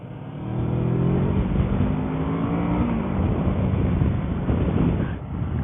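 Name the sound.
Kawasaki Versys 650 motorcycle engine revving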